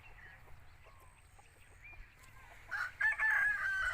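An Aseel Lassani cross rooster in Mandi Bahauddin crows loudly and close at the end, after a stretch of quiet background with faint clucks.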